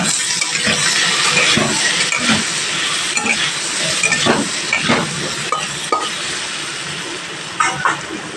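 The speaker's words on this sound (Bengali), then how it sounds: "হলুদ দিলাম, এরপর দিলাম লবণ, দিয়ে আলুগুলো ভেজে নেব।" Potatoes frying in a pan with turmeric and salt give a steady close sizzle, broken by scattered clinks and scrapes of a utensil, with no talking.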